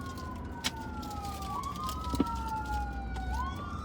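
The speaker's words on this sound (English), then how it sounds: "The ambulance coming." An ambulance siren wails through the street, its rising and falling tone sweeping past over steady traffic rumble, moderately near and continuous, with a couple of brief knocks and no talk.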